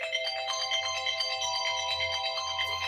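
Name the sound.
mobile phone ringtone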